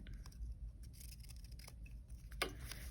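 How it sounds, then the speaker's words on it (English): Scissors trim the edge of a paper bookmark, giving quiet, repeated snips and light paper rustle in a calm indoor setting, with no talking. "Or we could trim them with our scissors"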